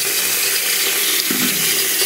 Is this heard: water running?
yes